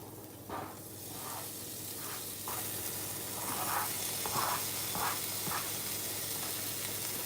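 Garlic sizzles and hisses in a hot pan for egg and shrimp fried rice, a steady close frying crackle with soft bursts of louder spitting throughout.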